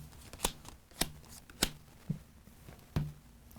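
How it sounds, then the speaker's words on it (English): Playing cards shuffled during a board game trivia session, giving a series of sharp riffling bursts roughly every half second, close and clear with no talking over them. "I am going to shuffle these cards the whole time"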